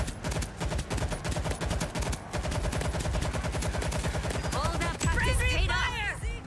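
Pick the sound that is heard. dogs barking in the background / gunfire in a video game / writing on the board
gunfire in a video game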